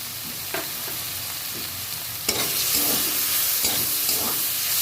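Okra and onion fry in a pan as mustard paste and green chili-garlic paste go in, a loud steady sizzle with sharp bursts and scraping stirs that grow louder midway.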